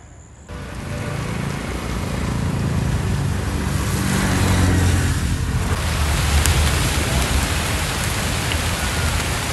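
Heavy monsoon rain during flooding near the overflowing Nilwala river at Akuressa, Matara, a dense, loud, steady downpour that starts abruptly and roars on without a break.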